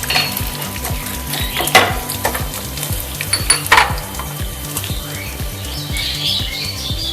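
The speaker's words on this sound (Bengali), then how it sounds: "এবার গরম তেলের মধ্যে আমি প্রথমে দিয়ে দিলাম আদা কুচি, এবার দিয়ে দিলাম রোস্টেড বাদাম ক্রাশ করা" Chopped ginger and crushed roasted peanuts sizzle in hot oil for paneer satay, a steady close frying hiss with regular stirring scrapes and clinks of a utensil against the pan.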